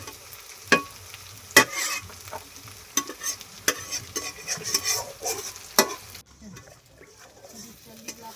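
Ginger garlic paste is stirred and fried in a pan over a village cooking fire, with steady sizzling broken by sharp scrapes and clinks of the spoon against the pan, fairly close and loud.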